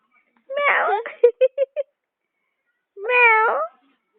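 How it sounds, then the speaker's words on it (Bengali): A cat meows in two drawn-out calls, the first trailing into a quick run of short chirping mews, the second a single long wail after a pause, close and fairly loud. "ম্যাও ম্যাও"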